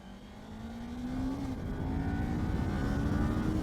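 A 2019 Kawasaki Ninja 400 motorcycle accelerates hard, its engine pitch climbing steadily with a brief drop at a gear change before rising again, close and growing louder.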